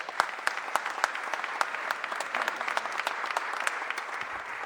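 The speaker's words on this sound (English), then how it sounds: "Give him a round of applause." Steady applause from a crowd at a mayor's press conference, continuous clapping that holds at an even level for the whole stretch.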